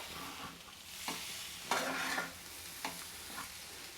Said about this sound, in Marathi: आणि आता आपण ह्याला चांगलं मिक्स करून घ्यायचं